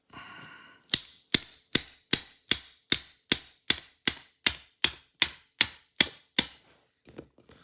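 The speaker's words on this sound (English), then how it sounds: "Let's give it a tap." Hammer taps driving a pin into the frame of a Tokyo Marui Sig Sauer P226 E2 airsoft pistol: about fifteen sharp, evenly spaced close strikes in a steady rhythm, followed by a few faint small clicks.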